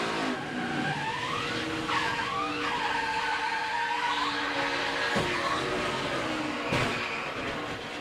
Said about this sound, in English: You heard him playing with the throttle.